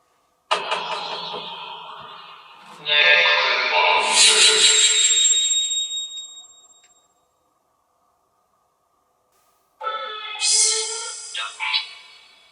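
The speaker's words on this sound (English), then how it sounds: "how weird does this necrophonic app sound?" Ghost box app of the necrophonic type sweeping through distorted, warbling synthetic tones and garbled voice-like fragments, two loud bursts separated by several seconds of silence, no live talk.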